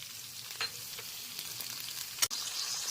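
Slit green chillies with half a capsicum, half an onion and half a tomato fry in butter with cumin, giving a steady, dense crackling sizzle throughout, with a brief louder spatter near the end.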